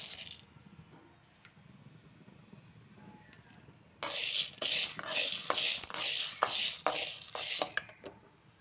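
Chana dal dry-roasts in a pan for idli podi. After a few seconds of near quiet, a sudden burst of rattling, scraping stirring begins, with repeated sharp clinks of the lentils shifting against the metal.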